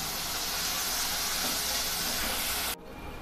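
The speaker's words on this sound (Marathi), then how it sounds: "आता आपण हे छान तांबूस रंग येईपर्यंत परतून घेणार आहोत।" Onion with a pinch of salt sautéing in a pan, a dense steady hiss that cuts off abruptly near the end, leaving a quieter background.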